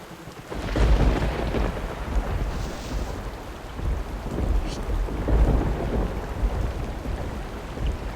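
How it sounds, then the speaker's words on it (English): A thunderstorm with steady rain in the video game Superbrothers: Sword and Sworcery EP. Low rumbling thunder rolls and swells continuously over a dense hiss of rainfall, loud and close, with no voices. "Ever since the storm began"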